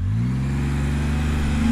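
A Can-Am Spyder F3 three-wheeler's engine drones steadily and loudly while it is ridden, with the pitch rising slightly toward the end. No voices are heard.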